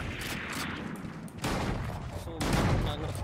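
Shotgun fire in a video game: a dense, chaotic stretch of gunfire with several sharp blasts and overlapping shots in quick succession, loud and close, with voices partly mixed in.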